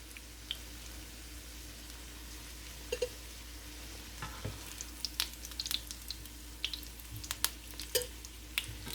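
Cabbage cutlets deep frying in hot oil, a soft constant sizzle with scattered crackles and pops that grow busier toward the end, close but quiet, no voices.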